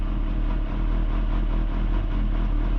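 A 1991 Kawasaki ZXR400 idling with the clutch let out, giving a steady close mechanical clatter and gearbox chatter over a continuous low engine drone, with no throttle applied.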